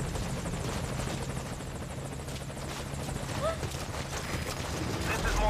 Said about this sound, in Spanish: Ahora he llegado ya al helicóptero.